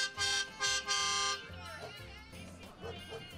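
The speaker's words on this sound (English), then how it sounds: "It seems like every time they talked, the horn beeped." A vehicle horn honks three times in quick succession during a downtown Santaland holiday parade in Garden City. The loud harmonic blasts are followed by a live announcer talking over the quieter street crowd.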